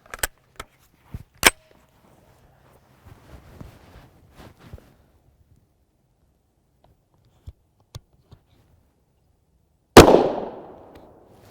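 A single 9x19mm 80-grain hollow point round fires from a 7.72-inch barrel as one loud, sharp report with a trailing decay. Earlier there are scattered quiet clicks and handling taps, plus a couple of sharper snaps before it.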